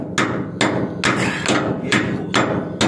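A hammer strikes a bolt on a MAN truck in six sharp metallic blows at a steady, unhurried rhythm, close and loud with a dull ring between hits.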